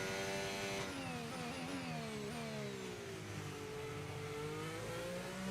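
A Formula 1 race car engine in the F1 25 racing game holds high revs in a continuous, loud whine whose pitch dips and sweeps gradually downward, with no talking over it.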